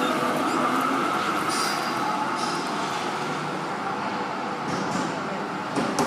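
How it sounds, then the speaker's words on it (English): A Melbourne A class tram on route 48 pulls away from a stop on Collins Street near Spring Street, its steady rumble blending with constant close roadway noise and city hum, with no clear talk. "Tram's departing, is it?"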